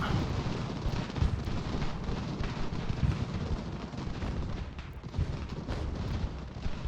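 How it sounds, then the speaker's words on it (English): Cannon artillery fire in the video game Ultimate General: American Revolution during the attack on Montreal, a dense rumbling barrage of overlapping booms and crackling shots that continues at moderate level without pause. "Cannons, let's get you all aiming at this big mass here, see if we can break that."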